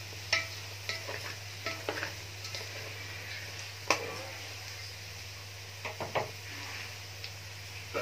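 Lamb tail fat renders in a frying pan as a utensil stirs it, producing a steady low sizzle and hum broken by occasional sharp scrapes and taps against the pan.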